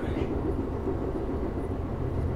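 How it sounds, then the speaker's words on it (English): A steady low rumble and rhythmic clatter of a long train running past, heard from inside a train's dining car, continuous and moderately loud throughout, with no voices. "Must be a long train out there."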